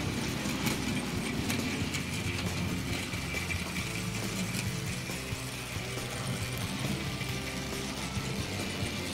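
An OO gauge model locomotive runs on a layout pulling wagons, giving a faint, steady whirring motor hum with a light rolling rattle and occasional clicks of the track joints.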